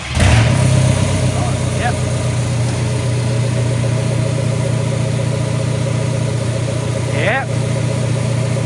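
A Ford Capri, converted to rear-wheel drive with a PD130 engine, fires up with a loud burst and settles into a steady, close rumbling idle while a voice speaks briefly.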